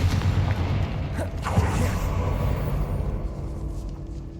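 Confringo blast spell cast in Hogwarts Legacy, heard as a dense, booming rumble inside a decayed catacomb, with one sharper burst about midway and a sustained low roar that slowly fades, no talking.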